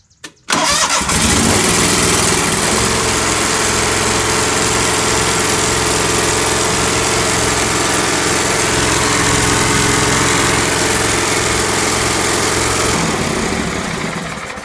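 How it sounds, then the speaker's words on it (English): A lawn mower engine with freshly cleaned and re-gapped spark plugs cranks briefly, catches, and settles into a loud, steady running drone close by, easing slightly near the end. "I'll just go ahead and fire it up real quick."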